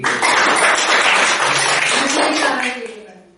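An audience in a spiritual class claps together, a loud burst of applause that fades out near the end, with voices mixed in.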